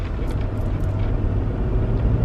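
A car accelerates in sport mode with a Wind Booster fitted, a steady low engine rumble heard from inside the cabin, with no talk.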